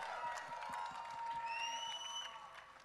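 Audience applause and cheering at a trailer launch for the series Rana Naidu, a steady wash of clapping and crowd cheers filling the hall for the full stretch.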